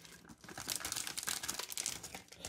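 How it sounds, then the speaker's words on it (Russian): A plastic bag of frozen Mexican vegetables, around 200 grams left, crinkles and rustles as it is tipped out into a multicooker, a close, busy crackle of bursts lasting a few seconds without speech. "ставим сверху и высыпаем наши овощи"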